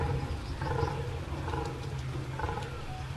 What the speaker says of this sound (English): But we do hear some croaking, which is from a buck, coming from around that area.